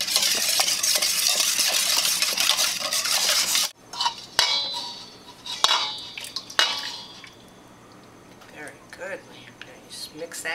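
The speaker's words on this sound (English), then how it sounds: "Keep mixing." Pumpkin muffin batter mixed in a bowl with a utensil, heard as steady scraping and stirring at first, then broken clinks and knocks against the bowl, with voices speaking around it.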